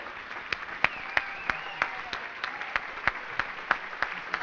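Applause at a charity gala, heard as a scattering of sharp, distinct claps at an uneven rhythm over a steady background hum, with a faint voice briefly underneath.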